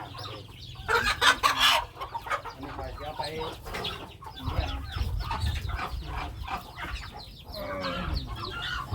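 Chickens cluck and a rooster calls in a Thai farmyard, a loud burst early on and then steady fowl sounds under ongoing nearby talk.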